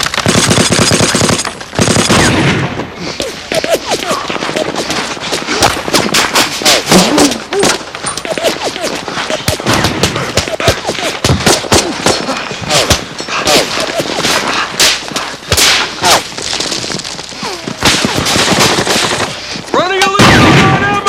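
Machine guns and rifles rattle in dense, continuous bursts through a Band of Brothers World War II battle scene, loud and close, with shouted voices and explosions mixed in.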